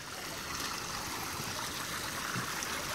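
Steady stream water runs and trickles outdoors in dirty cow-pasture water while a man washes his hands in it, a continuous close wash of flowing water with no talk.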